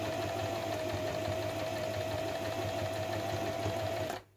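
A Janome 2200XT sewing machine runs steadily at close range with an even mechanical whir and a constant motor hum, stopping abruptly near the end.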